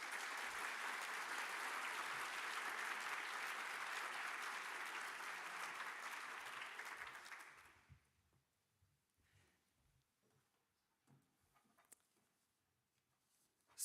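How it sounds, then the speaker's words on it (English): Conference audience applauds with a dense, steady roar of clapping for about eight seconds, then it fades out quickly into a quiet hall with scattered small noises. "I'd ask you to give a round of applause before we move to the next session."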